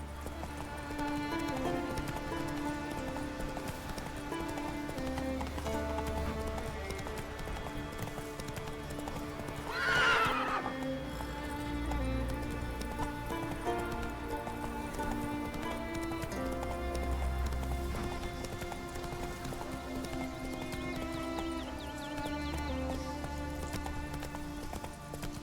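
Horse hooves clip-clop at a steady trot in The Witcher 3 while game music plays underneath, with one short neigh partway through.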